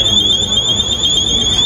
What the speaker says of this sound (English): You made the alarm go off.